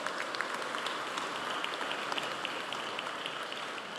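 Dense crowd applause for a deputy receiving a merit award at a Harris County Sheriff's Office commendation ceremony, a steady hiss of many hands clapping at moderate distance, no voices.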